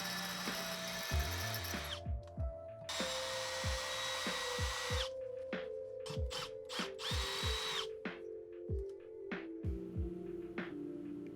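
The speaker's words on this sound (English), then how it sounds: "this screw is all messed up, so I'm going to remove it with the drill" A power drill bores out a damaged rear brake rotor screw on a 2010-2014 VW MK6 GTI, whining in repeated bursts that rise and stop, with short pauses and clicks between runs, close and loud.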